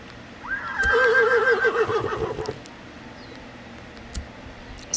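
A horse whinnies in the Horse Life video game, a loud rising-then-wavering neigh lasting about two seconds, followed by faint clicks and quiet background.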